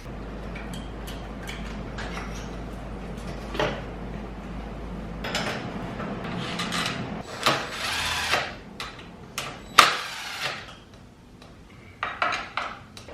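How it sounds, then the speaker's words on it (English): A rim lock on a 2019 Honda CR125 dirt bike wheel is tightened down, giving faint irregular metallic clicks, taps and ratchety scrapes close by in a quiet space, with a few sharper knocks toward the end. "Just tighten down the rim lock."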